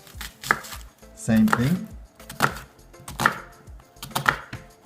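Knife chopping onion on a cutting board, a few sharp separate knocks of the blade against the board at an unhurried pace, close, with a brief spoken remark between cuts.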